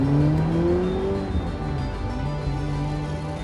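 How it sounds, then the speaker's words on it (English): A car swings back onto the road and accelerates as a story sound effect, its engine note climbing briefly and then easing into a lower, fading drone over about three seconds. "Kane made a decision and swung the car back onto the road."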